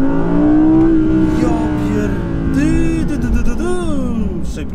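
Audi R8 Green Hell Edition with a 5.2-litre 620 hp V10 launching hard under launch control, the engine howling upward through quick gear changes with rising and falling pitch sweeps, loud and close, with brief speech in the cabin.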